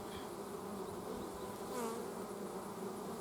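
Gentle honeybees buzz steadily around an open hive as frames are worked, a soft continuous drone with a few louder passes close by and no talk.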